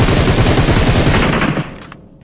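Rapid automatic gunfire in a sniper shooting video game, a loud dense burst of repeated shots lasting over a second before cutting off and trailing into quiet.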